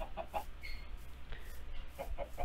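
Minecraft chickens cluck in short repeated bursts, a few quick clusters of soft clucks spread through the moment over a low steady game background hum, with no talking.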